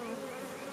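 Honey bees from a weak hive buzz steadily at close range, a dense, continuous insect drone with no pauses.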